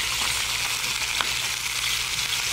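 Food browns in a hot frying pan, an even, continuous sizzle close by with one faint clink partway through and no talk.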